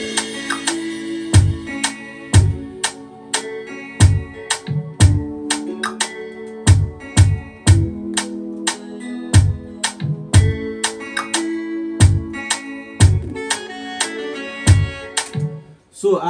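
Guitar chord progression backed by a steady drum beat, kick and snare hits repeating in a regular rhythm throughout a produced track, loud and clear with no voices.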